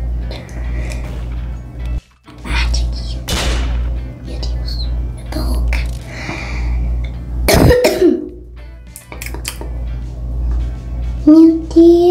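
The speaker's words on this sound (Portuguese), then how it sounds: "Ignore minha tosse" Several harsh coughs and throat-clearing bursts from a woman playing an online game, loud and close, scattered irregularly over continuous game background sound.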